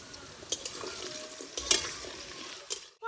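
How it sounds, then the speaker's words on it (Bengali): Salted potatoes frying in a wok, a faint steady sizzle with a few sharp scrapes and stirring clinks, quiet and close without talk. "আলুটা হালকা আছে ভাজা হতে থাক"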